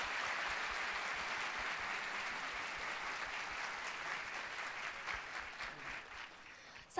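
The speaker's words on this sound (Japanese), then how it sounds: "5選手に大きな拍手をお送りください。" Steady audience applause at Nagoya Grampus's 2016 season launch event for five new football players, a dense continuous wash of clapping from a large crowd, fairly distant and even, fading slightly at the end.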